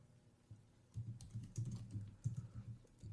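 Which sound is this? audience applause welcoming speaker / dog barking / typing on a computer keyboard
typing on a computer keyboard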